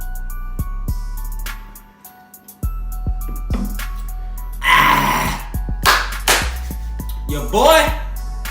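During a no-burping drinking challenge, a man lets out a few loud, coarse burps close to the microphone, mixed with groaning vocal sounds among repeated thuds and clicks.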